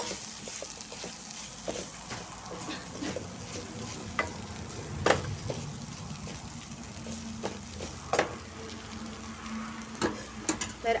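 Carrot halwa with ghee-fried dry fruits sizzles in a pan while a spoon stirs and scrapes, steady soft frying hiss with occasional sharp clinks, close and quiet.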